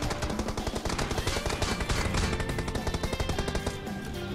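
Rapid automatic gunfire from the mobile battle royale game PUBG Mobile rattles in dense, continuous bursts of close, loud shots with no talking over it.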